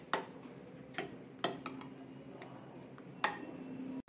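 Spoon clinking against a bowl while mixing chopped banana stem into curd, a few sharp scattered taps and scrapes, close and fairly quiet.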